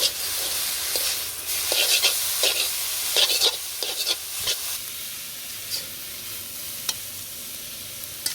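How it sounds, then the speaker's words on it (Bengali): Green chilies and onion are stirred into leafy greens in a hot pan, a steady sizzle and hiss broken by scraping spoon strokes and soft clinks, with no talking. "শাকের মধ্যে কাঁচামরিচ পেঁয়াজ পেঁয়াজ দিয়ে দিচ্ছি"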